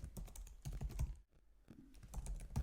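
Computer keyboard typing in quick, clustered bursts of close key clicks, with a brief pause in the middle before the keystrokes resume.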